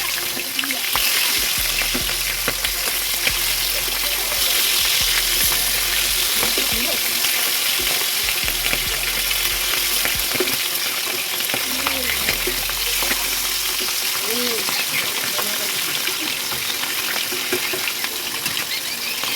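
Hilsa fish fries in a pan with aubergine, making a loud, steady sizzle and crackle close by, while a low hum and occasional clinks run underneath.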